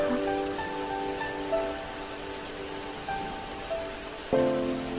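Rain falls steadily through the night in a soft, even hiss, with faint tonal music-like lines above it and a few brief louder patter bursts.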